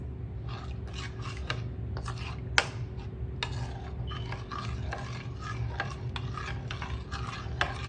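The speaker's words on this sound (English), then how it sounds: "Okay, and then just give that a good mix." A whisk or spoon beats salt and ground black pepper into a mushroom batter in a bowl, quick rhythmic scraping strokes repeated steadily and close, with one sharp clink against the side and no talking.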